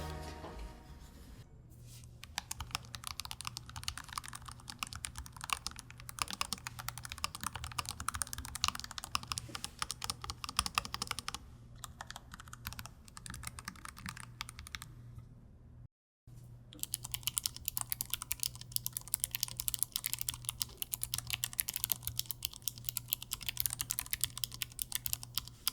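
Steady, fast typing on an ROG Falchion RX low-profile keyboard with silicone foam layers in its base, a dense close clatter of soft keystrokes running continuously, broken only by one brief pause.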